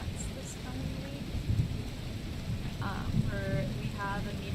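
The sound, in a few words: rain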